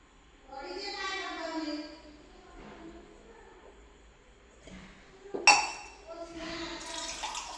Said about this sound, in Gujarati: નાની માટલી આમ કરી અને ચાલુ કરો પાણી ભરાઈ ગયું બંધ કર્યું